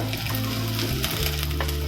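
Dried red chillies fry in hot oil for a Kerala sadya-style curd pachadi tempering, a steady close sizzle and crackle with faint stirring, and no talking.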